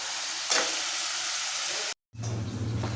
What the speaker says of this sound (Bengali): পেঁয়াজ আর লঙ্কা কুচিয়ে রেখেছি। এবার এটাকে দিয়ে দেবো।